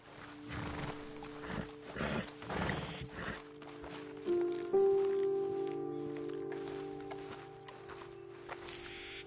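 Horse hooves clip-clop and a horse neighs in Red Dead Redemption 2, with steady nearby steps followed by a drawn-out whinny over a faint game ambience.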